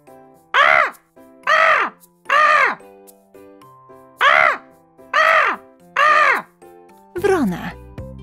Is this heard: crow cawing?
yes